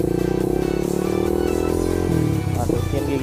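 Manual-clutch motorcycle rolling toward a traffic light, engine running close and steady, then rising in pitch as the rider eases the clutch and opens the throttle, with some mechanical clatter.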